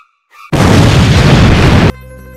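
A Diwali firecracker goes off with one loud, sharp blast, and a dense roaring burst follows for about a second and a half before it cuts off.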